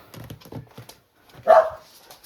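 A dog gives a single sharp bark after some low, muffled sounds, close by and fairly loud.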